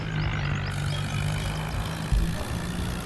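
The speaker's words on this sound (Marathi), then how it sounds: "ट्रॅक्टर उचलत आहे बघा" Tractor hauling an overloaded trolley of sugarcane at night, its engine droning loud and close with a heavy low rumble and a steady hum, straining continuously with a brief surge partway through.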